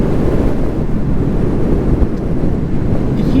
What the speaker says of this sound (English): Boy, this wind is something, pushing me around.